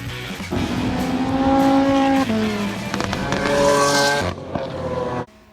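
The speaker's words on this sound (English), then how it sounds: "This is the Ferrari Enzo" A Ferrari Enzo supercar drives past loud and close, its engine revving high and climbing through the gears with a sharp shift before the sound drops away abruptly.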